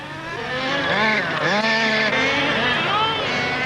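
Miniature model racing cars run at a display by a model car club at the Wagin Woolorama agricultural show, their small engines whining and revving in rising and falling pitch, steady and fairly loud throughout.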